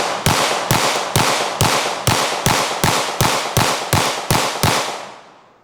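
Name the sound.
gunfire, a magazine of rounds fired at cheap Amazon body armor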